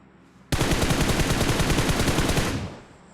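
Sustained automatic fire from an M4 rifle in a ranked video game match, a loud, close, rapid burst of evenly spaced shots lasting about two seconds before cutting off, with no talk over it.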